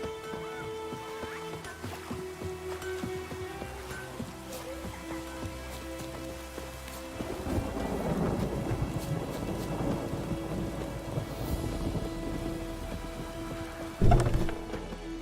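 Rain and rolling thunder in Genshin Impact, with steady rainfall, a deep rumble building in the middle and a sharp thunderclap near the end, heard with no talking.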